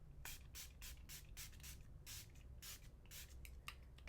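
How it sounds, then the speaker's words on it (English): A Milani Make It Last setting spray is pumped in a quick run of about a dozen short, close hissing bursts, each a separate squirt with brief gaps between them. "So I'm just going to use the Milani Make It Last spray."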